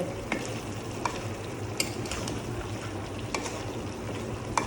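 Cumin fries in a pan while being stirred, a steady sizzle broken by sharp periodic scrapes of a utensil against the metal, close and alone with no voices.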